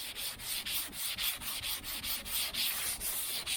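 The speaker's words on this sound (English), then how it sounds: "So I'm going to sand some with 320." A 1978 El Camino SS body panel is block-sanded by hand with 320-grit paper over filled pinholes, giving a steady run of brisk, close, rasping strokes about three per second, with no talk.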